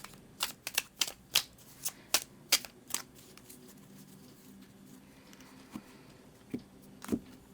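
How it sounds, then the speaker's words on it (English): Tarot cards being shuffled at a quick pace: a run of sharp, crisp riffles and taps close by, dense in the first few seconds and then sparser, with no voices. "When I shuffle, I kind of fast forward the video"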